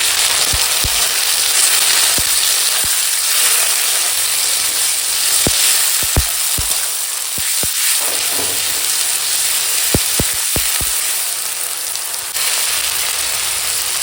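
Tomatoes fry with onion, chili and ginger-garlic paste in a pan, producing a continuous loud, hissing sizzle, punctuated by sharp scattered clicks and taps from stirring throughout.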